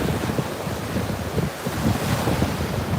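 Ocean surf and wind at Deerfield Beach, Florida: waves wash in steadily while a buffeting wind rumbles against the microphone throughout, with no one talking.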